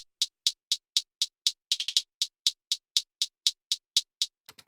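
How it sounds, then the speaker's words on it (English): A hi-hat loop sample from Splice plays alone: bright, crisp, evenly spaced ticks in a steady rhythm, about fifteen hits with a quick flurry near the middle, close and dry. "And then I have this hi-hat loop that I just got from Splice."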